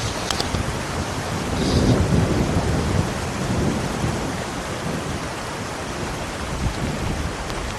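Thunder rumbles low and broad beneath a steady wash of heavy rain, swelling in the first few seconds and then fading back into the constant downpour.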